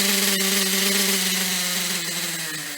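Small nitro RC engine running close and loud with a thin buzzing whine, its pitch sagging slightly as it nears cutting off after the fuel line to the carburetor is pinched.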